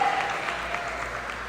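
Church congregation applauding during a worship service, steady sustained clapping from a crowd throughout, fairly loud and continuous with no talk over it.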